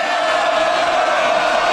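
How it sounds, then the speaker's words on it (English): A comedy show audience cheers and whoops, a steady loud wash of crowd noise with no break from start to finish. "Going down well with the crowd."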